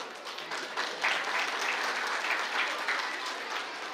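An audience at a play school function in Nagpur claps to welcome the guests, a continuous wash of applause that swells slightly partway through and carries on steadily without talk.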